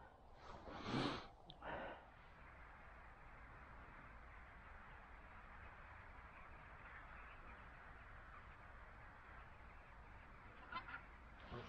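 Geese honk at a decoy spread on a cold, frosty Scottish morning during a hunt: a brief burst of honking calls near the start, then a steady wind-like hiss with a faint call near the end.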